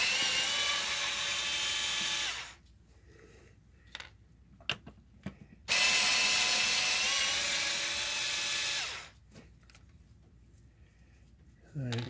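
High-pitched whine of a power driver backing screws out of an OEM Tools 20 volt 1/2-inch impact driver housing, two long bursts with quiet handling clicks between and another brief burst at the end.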